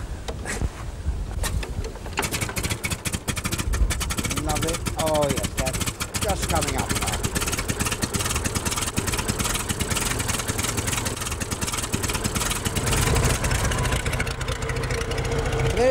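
A vintage Fordson tractor engine cranks and fires, then settles into a steady, loud, continuous running drone close by, with people talking over it throughout.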